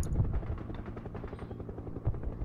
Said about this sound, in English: helicopters can be a beast sometimes